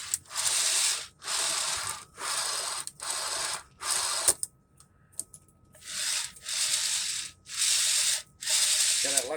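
A small model train running straight on bare wood track gives a loud, hollow rattling roar in repeated bursts about a second long, broken by a short quiet gap before the clattering resumes.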